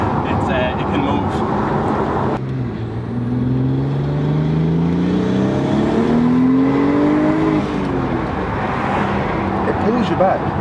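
A modified turbocharged car accelerates hard on the road, its engine note climbing through rising sweeps with strong, close, steady roar, while people talk inside over it.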